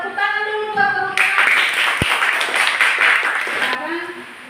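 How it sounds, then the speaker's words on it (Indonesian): Students in a classroom give a short burst of applause after a presentation, a dense patter of clapping lasting a few seconds, with a voice speaking just before it starts. "tepuk tangan dulu buat teman-teman"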